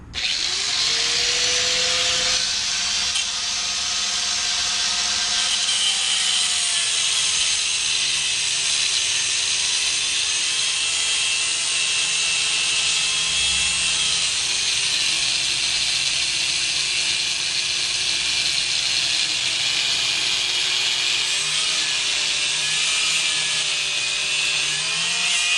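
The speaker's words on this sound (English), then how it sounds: "So I'm gonna have to take I'm gonna have to cut the bolt. I'm gonna have to take a grinder to it." An angle grinder cuts through a seized tie rod bolt on a 1999 Dodge Ram 1500 4x4, giving a loud, unbroken high-pitched whine and hiss with a slowly wavering tone as it bites through the metal. No one speaks.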